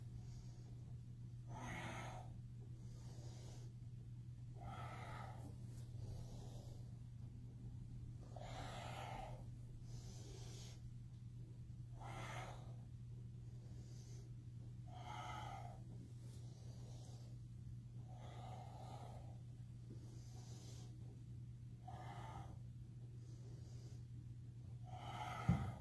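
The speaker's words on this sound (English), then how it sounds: "Keep going with your breath." Slow, rhythmic breathing during a yoga flow, about a dozen soft breath cycles spaced a couple of seconds apart, faint and close under a steady low hum.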